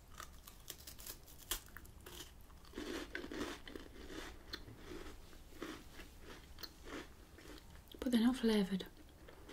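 Wafers crunch and crackle between the teeth in a quiet close-up, with soft bites and a louder burst of chewing near the end, while a person speaks softly in between.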